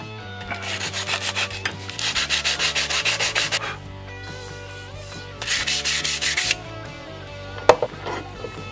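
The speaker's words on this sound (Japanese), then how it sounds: "ここからはサンドペーパーで磨きます。" Sandpaper rubbed back and forth over a kitchen knife blade, close and loud, in two bursts of quick rhythmic strokes separated by a pause and followed by a few scrapes.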